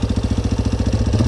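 A Yamaha Wolverine 350 ATV with an air-cooled engine and stock exhaust idles loud and close, putting out a steady, rapid, even thumping pulse.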